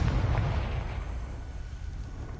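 A Confringo spell explodes in a Hogwarts video game as a single deep, booming blast that rumbles and fades away over a couple of seconds.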